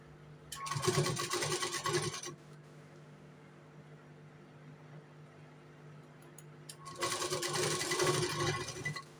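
A sewing machine stitching piping on a four-tuck blouse runs in two steady bursts of rapid, even mechanical whirring, close and fairly loud, separated by a quiet pause with no talk.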